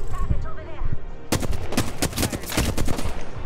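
Rapid gunfire from the Apex Legends video game: loud, dense bursts of shots that start after a brief lead-in and keep cracking in close succession to the end.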